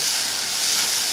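Spices with turmeric and asafoetida powder sautéing in a hot pan for rasam, a steady loud sizzling hiss held evenly throughout, close up, with no talk over it.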